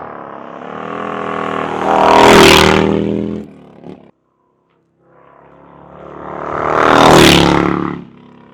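Harley-Davidson 2025 Street Bob motorcycle fitted with a TAB exhaust, revving loudly outdoors in wind: two deep, swelling throttle blips that rise to a roaring peak and fall away, separated by a brief silent gap.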